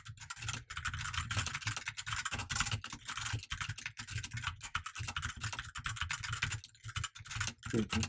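Quick, uneven clicking of keys on a computer keyboard continues throughout, close and fairly quiet, with short pauses between bursts of typing.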